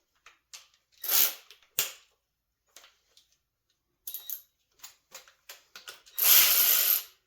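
Socket ratchet snugging bolts on a New Holland 4-wheel drop box, several bursts of close, crisp clicking separated by quiet pauses, with scattered small metallic taps between them.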